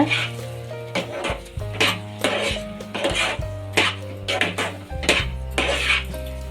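Pineapple halwa with melon seeds and cashews stirred in a pan produces repeated scraping clinks about every half second over steady background music.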